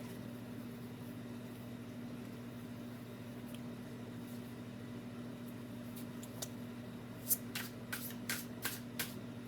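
A deck of playing cards being shuffled, a quiet run of crisp riffles and flicks near the end over a steady low electrical hum in a still room.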